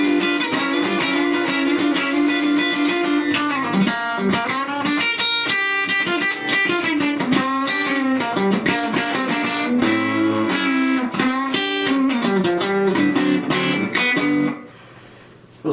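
An electric guitar plays a busy run of notes and chords with its reverb switched off, loud and close with a slightly driven tone, then cuts off near the end.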